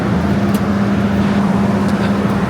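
Porsche 911 GT3 with a Sharkwerks rear silencer delete, its exhaust giving a steady, fairly loud drone with a constant low hum and no rise in pitch over the short stretch.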